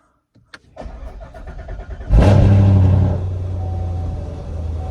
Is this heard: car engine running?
yes